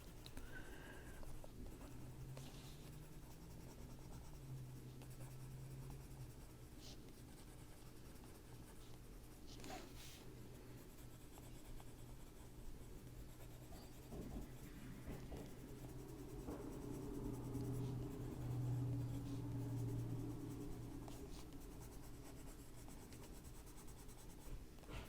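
Earth green colored pencil shading on paper, a faint steady scratchy rubbing of strokes going on at length, close and quiet, with no voices.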